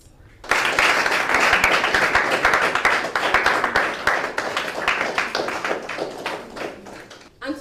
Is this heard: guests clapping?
yes